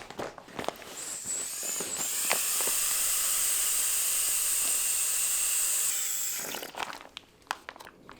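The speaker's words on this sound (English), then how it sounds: "You're gonna open that up and deflate the air out." Air hisses steadily out of a travel bag's deflate nozzle for several seconds, rising then cutting off, with faint crinkling and handling noises before and after.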